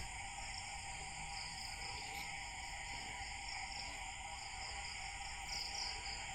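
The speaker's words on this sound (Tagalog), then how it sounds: "Naririnig mga kuliglig." Steady, continuous chorus of crickets trilling at night, faint and distant, with a layered high-pitched buzz throughout.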